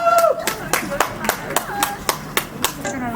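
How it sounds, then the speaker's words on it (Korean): One person gives a series of sharp, loud hand claps at a public art workshop in Suwon, about nine evenly spaced claps in a steady rhythm. A brief voice sounds at the start. "우측에 박수를 크게 칠게."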